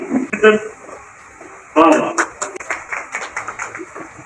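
Audience clapping greets a former corporator arriving at a student award ceremony, a brief burst of claps, a pause, then a fuller round of applause with scattered individual claps, mixed with some talking.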